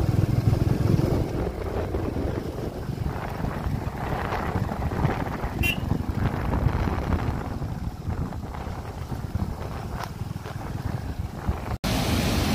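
Motorbike riding along a good stretch of road in the Darma valley, mostly heard as steady, loud wind buffeting the microphone with a low engine rumble underneath throughout, ending with a brief dropout.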